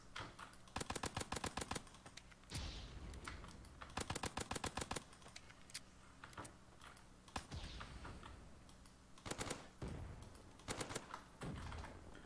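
Rapid bursts of gunfire from a gun in Call of Duty Zombies rattle out in repeated clusters of quick shots, fairly close, with short pauses and softer background noise between them.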